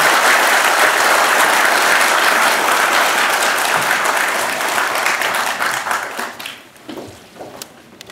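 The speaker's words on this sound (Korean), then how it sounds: "큰 박수로 문재인 전 대표님을 맞아주시기 바랍니다" A large audience at a Korean security policy forum applauds to welcome former Democratic Party leader Moon Jae-in, loud and dense at first, then thinning and fading to scattered claps near the end.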